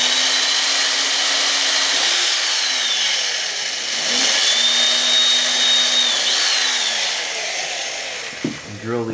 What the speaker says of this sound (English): drill these pilot holes